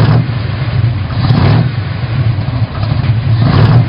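A 500-pound monster truck engine revs hard at a stadium show, a loud continuous low roar that swells in surges around the middle and end, close and dominant with no talk.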